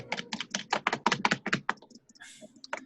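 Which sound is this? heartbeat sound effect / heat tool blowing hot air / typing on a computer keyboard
typing on a computer keyboard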